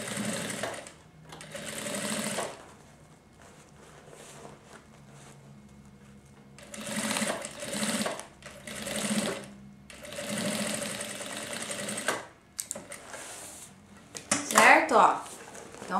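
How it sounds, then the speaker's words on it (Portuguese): A sewing machine stitches the tip of a lunch bag strap in several short, close bursts of rapid whirring with pauses between, and a brief voice near the end. "Por isso que a gente faz uma costurinha bem na ponta"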